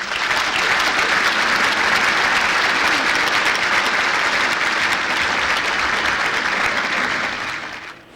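Audience applause welcoming speaker Wayne Rakovich at a Hughes Aircraft retiree reception, dense steady clapping from a room full of people that fades out at the end.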